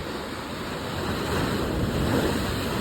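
Ocean surf rolls in as a broad, steady roar of breaking water, swelling slightly toward the end with a wash of wind noise, loud and close with no voices.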